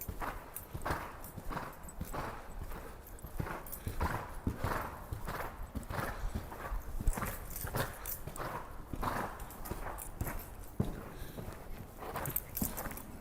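Horse hooves clip-clop steadily during groundwork with a horse, a quiet, regular rhythm of close footfalls that continues throughout without speech.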